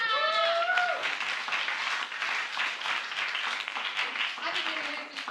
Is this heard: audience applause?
yes